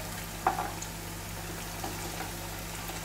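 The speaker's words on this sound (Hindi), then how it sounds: "दोनों साइड से इसे क्रिस्पी और गोल्डन ब्राउन होने तक इसे हम फ्राई करेंगे" Potato lachha tikki fries in oil over a medium flame, a faint, steady sizzle running throughout with one small crackle near the start and no voices.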